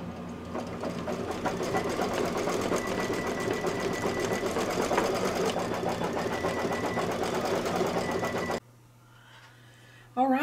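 An embroidery machine stitches an accent stitch on a birth announcement wall hanging, a steady, loud mechanical whirring that runs continuously for most of the stretch, then cuts off abruptly near the end, leaving brief quiet.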